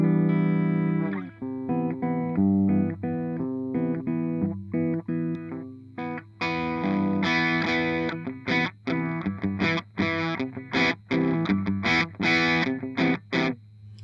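Clean electric guitar played on its humbucker pickups through a Kink pedal, plucked single notes and chords ringing out loud and continuous, growing brighter and more strummed partway through, with no talking.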